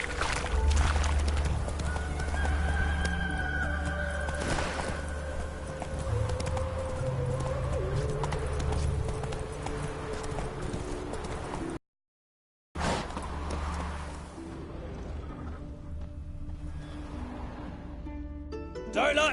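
Rhythmic hoofbeats of the horse Roach galloping in The Witcher 3, a steady clip-clop running nearly the whole time alongside game music, with a brief gap of silence partway through.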